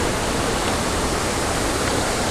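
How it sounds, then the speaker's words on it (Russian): Iguazu Falls roars in a dense, steady wall of rushing water, loud and unbroken throughout. "Такой шум воды вокруг."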